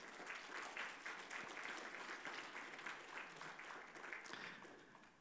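Faint, steady audience applause at an awards thank-you ceremony, with a continuous patter of many hands that swells slightly near the end.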